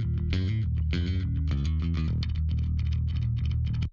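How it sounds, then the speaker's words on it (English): A distorted bass guitar plays a chunky, driving riff with fuzzy low notes and bright gritty overtones, loud and continuous before cutting off abruptly. "Bass sounds like this."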